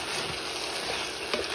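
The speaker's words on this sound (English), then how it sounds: "Let's let this fry for 3 more minutes" Rice and fried sausage frying in a pan, giving a steady, dense sizzle that stays loud and close throughout, with no voices.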